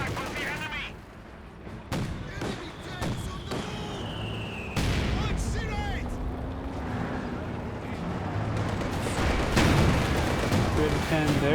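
Gunfire and artillery from the Company of Heroes 2 real-time strategy game, a Panther tank and IS-2 engaging a ZiS gun: repeated sharp shots and booming blasts at irregular intervals over a steady battle din, with a commentator talking throughout.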